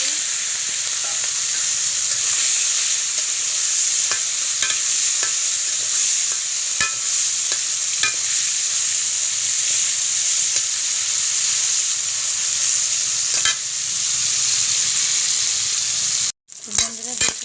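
Shrimp fry in hot oil in a wok with a steady, bright sizzle that lasts throughout, broken by light scraping and clicking from stirring, and a brief drop near the end.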